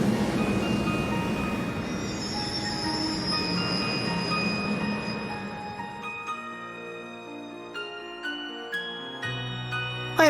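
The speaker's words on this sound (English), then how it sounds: "Why take the train with Rean?" Train ride in the video game Trails of Cold Steel II, rumbling rail noise with squealing wheels that fades out as synthesized game music and chimes take over.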